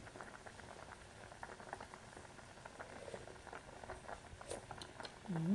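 Broth spiced with ginger bubbles at a rolling boil in a pot, a soft continuous patter of popping bubbles heard close but faint, with a brief murmur near the end.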